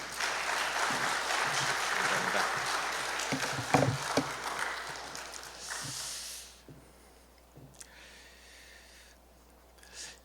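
A church congregation applauds loudly to welcome the pastor, several seconds of dense clapping that fades and gives way to quieter room sound.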